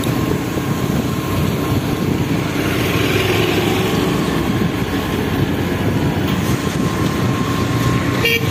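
A train rolls into Kasimbazar station with a loud, steady rumbling roar, heard close from on board or beside the tracks, unbroken throughout.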